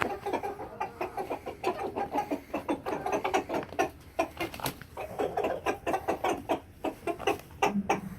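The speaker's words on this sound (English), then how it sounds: "we'll take a look over at my egg chickens" Egg-laying chickens cluck close by in a busy, irregular stream of short clucks and squawks, with several birds calling over one another.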